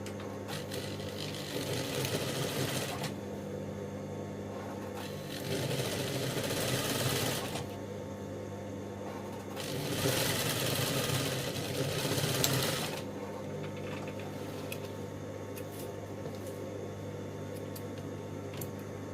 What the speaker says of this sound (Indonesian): saya akan jahit besar juga ya, mengikuti kampuhnya ya